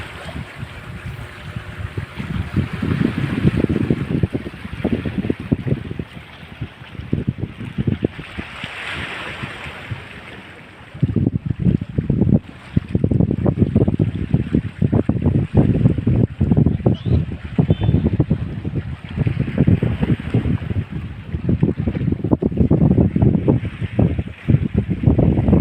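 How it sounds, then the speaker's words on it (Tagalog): A boat engine drones steadily with wind buffeting and splashing water near Surigao, continuous and fairly loud throughout, with no voices. "Dako ning makina, no?"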